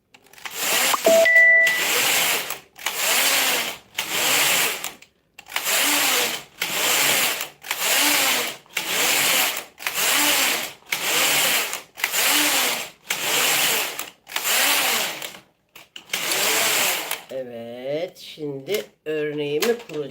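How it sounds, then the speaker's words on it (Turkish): A knitting machine runs in repeated passes of its carriage, each a loud, even mechanical rasp with short pauses between, about a dozen in a steady rhythm, before a voice speaks at the end. "Bak burada makine de örüyorum."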